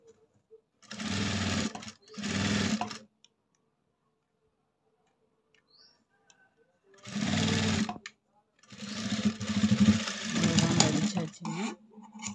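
A sewing machine stitches a blouse in four short bursts of rapid ticking, separated by pauses, running close and alone.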